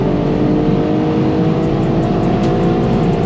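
An Infiniti Q50 3.7 with a flame map revs at full throttle toward 7,000 RPM. The engine holds a loud, continuous, rising roar close by with no talk over it.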